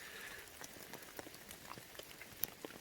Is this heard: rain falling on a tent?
yes